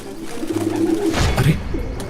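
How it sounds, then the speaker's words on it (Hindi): A cartoon pigeon that has fallen badly to the ground coos and flutters in a short, close burst, with a low throaty call under a brief rustle of wings. "उसने देखा कि एक कबूतर बुरी तरह जमीन पर गिरा और फड़फड़ा रहा था।"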